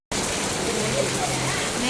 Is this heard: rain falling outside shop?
yes